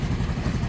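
Yamaha Mio Gear 125 scooter engine running steadily after repair, a short close burst of even mid-pitched engine hum with light mechanical clatter.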